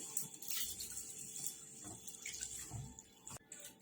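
Mixed lentils are rinsed in water in a bowl, giving a soft continuous splashing and sloshing that stays faint and close, with no talk.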